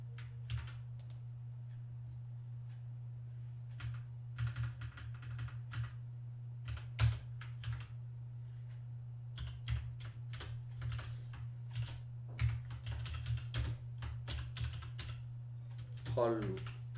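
Computer keyboard keys tapped in irregular bursts while writing Java code in BlueJ, soft close clicks spread over a low steady hum, fairly quiet throughout.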